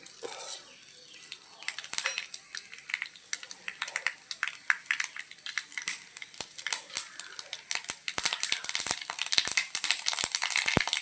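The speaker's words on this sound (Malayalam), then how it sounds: "കടുക് പൊട്ടി" Mustard seeds pop in hot oil while tempering a Kerala chilli chutney, with sharp irregular crackles and clicks that grow denser and louder toward the end, heard close up with no talk.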